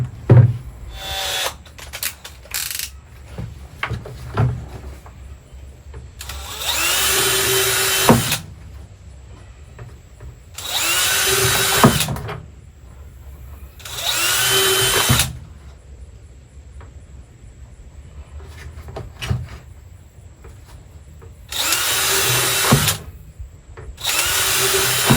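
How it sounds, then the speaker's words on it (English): A power drill bores holes down the sides of a plastic bucket in a series of loud, close whirring bursts, each lasting a second or two, with quiet pauses between them. "put that in the drill, and drill a bunch of holes down the sides"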